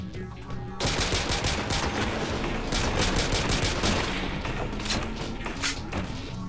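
Rapid Beretta pistol fire in Call of Duty World at War custom zombies, a dense run of sharp shots and thuds that continues almost without a break for several seconds, loud and close.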